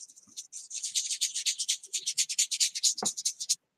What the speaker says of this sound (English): Just go rubbing that in.